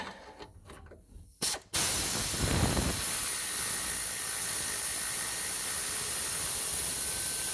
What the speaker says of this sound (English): let's spray some more fun WD-40 on her